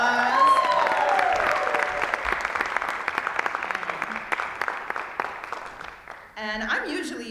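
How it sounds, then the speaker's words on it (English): Audience applause at the opening of a National Conversation on Race event in San Antonio, a sustained wash of crowd clapping that fades out before a speaker resumes talking. "Can we have a round of applause?"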